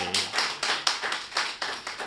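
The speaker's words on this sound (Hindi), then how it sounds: "कविता समाप्त हो गई है, तालियां बजाइए।" Scattered claps from a small audience at a Hindi comic poetry recital, a few sharp irregular bursts of hand claps over about two seconds, thin and somewhat distant, with no talking.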